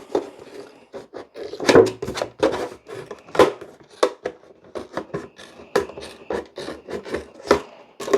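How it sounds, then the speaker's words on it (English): Irregular crisp snips and rustling crinkles of scissors cutting a plastic milk jug, close up, with uneven pauses between bursts and no talking. "cut down to that with my scissors."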